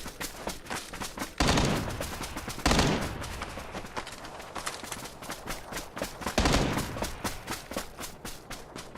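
Gunfire in the battle royale game PUBG, rapid repeated shots crackling throughout with several heavier bursts, loud and dense, no talking.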